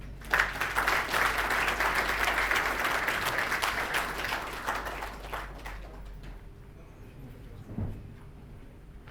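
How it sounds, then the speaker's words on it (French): Audience applause greets a magistrate arriving at a formal court ceremony, dense and steady for about six seconds before thinning out, then a brief knock near the end. "Je voudrais vous inviter à recevoir ici le magistrat Théodore Dagrou sous vos applaudissements"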